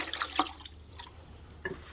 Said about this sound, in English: Yeah, see, I'm dripping water on it from that bucket.